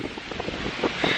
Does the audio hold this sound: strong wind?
yes